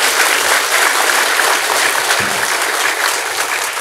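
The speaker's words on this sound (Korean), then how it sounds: "큰 박수로 보겠습니다." A large audience at a leadership meditation academy lecture gives dense, loud, continuous applause, a thick wash of many hands clapping at once without a break.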